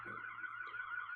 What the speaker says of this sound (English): I apologize for the ambulances again